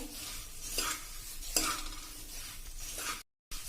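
Puffed rice (murmura) roasts in a pan and is stirred continuously with a spoon, giving a steady dry rustle and soft scraping with a couple of louder scrapes against the metal, close and alone.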